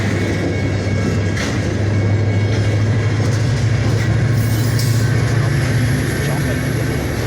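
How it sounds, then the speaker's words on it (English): VIA passenger train and a CN local freight moving through Brockville on the same track, heard as a steady loud low rumble with continuous wheel and rail noise throughout, close by, with no pauses. "A double train meet on the same track, passenger train moving, and we got ourselves a local that is pushing itself."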